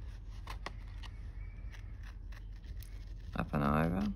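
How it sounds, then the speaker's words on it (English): Scissors or a blade cut through a paper envelope in a series of short, close snips and scrapes, with a brief voice near the end. "So now we're going to cut that out again. Just blade, scissors, whatever you want to use."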